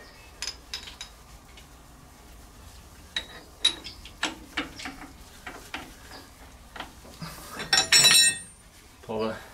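A metal wedge is fitted back into a steamboat steam engine bearing, giving a run of light metallic taps and clinks, close by, that end in a louder scraping clatter.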